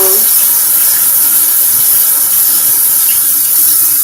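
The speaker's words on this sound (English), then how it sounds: "rinsing my strainer out" Tap water runs steadily into a kitchen sink while a strainer is rinsed, a loud continuous hissing splash with no pause and no voices.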